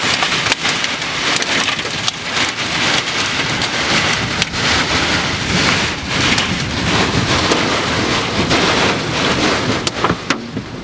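Strong northerly wind and heavy rain from a high-precipitation supercell near Rossville, Illinois roar steadily, with rain drumming hard on a surface in constant loud bursts and no voices.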